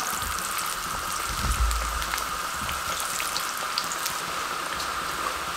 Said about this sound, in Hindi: दूसरे पकोड़े भी इस तरीके से हम फ्राई कर लेंगे।